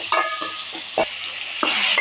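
Medium-sized tomatoes frying in a pan for okra gravy, a sizzle behind a few quick scraping stirs of a spoon against the pan, close and alone.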